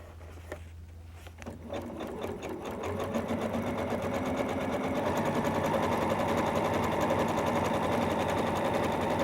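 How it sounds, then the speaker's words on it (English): A sewing machine runs a steady, fast decorative stitch to tack down floss on a tree quilt block, its even rapid needle clatter close and continuous, starting after a brief pause and building to a constant rhythm. "I'm sewing this decorative stitch here, which will tack down the floss"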